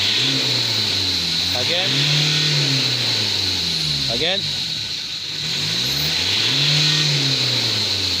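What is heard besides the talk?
Ford Ranger engine revving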